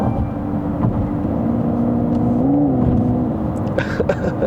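Synthetic engine sound from a GWM Ora 07 Long Range electric car on a test drive, a steady loud droning hum with a rising whine inside the cabin and faint knocks near the end.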